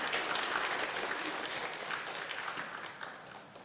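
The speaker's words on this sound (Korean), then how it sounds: "우리 하나님 앞에 영광의 박수 올려드리겠습니다." A church congregation applauds during a Sunday worship service, a dense, steady round of clapping that fills the room and gradually tapers off toward the end.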